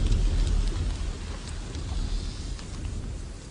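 A heavy downpour of rain pours steadily in a dense, continuous roar with low rumbling beneath, even and unbroken throughout.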